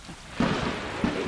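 Thunder rumbles through a rainstorm in the cat adventure game Stray: steady rain hisses while two low thunder swells roll in close together, fairly loud, with no voices.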